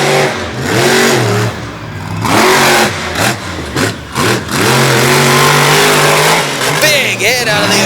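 Monster truck engine revving hard while cutting a donut at the far end of a Little Valley, New York arena track, rising and falling loud engine roars with bursts and dips, under a commentator talking and crowd noise.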